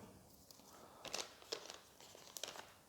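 A paper-foil sterilization pouch for packing instruments gives faint, soft crinkles and rustles as it is handled close by, in short irregular bursts in a quiet room.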